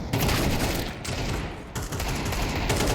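Dense, rapid gunfire from a Counter-Strike match on the Ancient map, loud continuous bursts of shots filling the whole stretch with brief dips between volleys.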